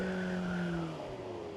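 A 2025 Honda CBR 600RR motorcycle brakes hard on the road. A loud whine with a falling tone fades as the bike slows over a second or so.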